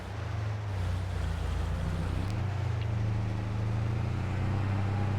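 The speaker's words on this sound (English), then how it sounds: "Ooh, truck is struggling just a little bit." A truck engine labours and drones in Farming Simulator 22, a steady low rumble with a slight pitch shift partway through, loud and continuous without talk.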